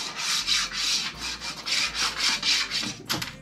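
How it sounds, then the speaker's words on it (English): Chalk stick held on its side and rubbed back and forth across a painted chalkboard pantry door in an RV, giving steady rhythmic scraping strokes, about seven passes, close and alone. "take the side piece of the chalk and rub it all over your board"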